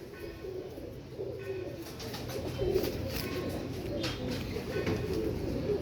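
Tiger breed pigeons coo in a loft, a low, steady, rolling cooing that continues throughout at moderate volume with faint background noise.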